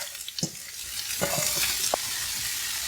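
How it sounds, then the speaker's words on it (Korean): Thin julienned carrot strips sizzle in oiled pan while being stirred, a steady broad hiss with a few sharp clacks of a utensil against the pan, close and moderately loud with no talking. "역시 얇게 채친 당근 넣어줍니다."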